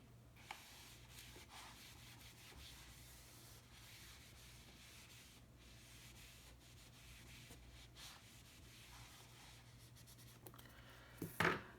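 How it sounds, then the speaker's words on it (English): Steady soft rubbing of an eraser across a lecture board during a chemistry class, a continuous low swishing hiss with faint strokes throughout and a brief louder knock at the very end, no talking. "And I'm going to erase"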